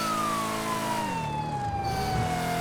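A police car siren wails in the video game GTA V with the LSPDFR mod. The electronic tone glides steadily downward in pitch and sounds fairly quiet, with engine noise underneath.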